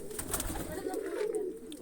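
A domestic pigeon coos softly at close range, low murmuring calls repeating over a faint background, with no talk over them.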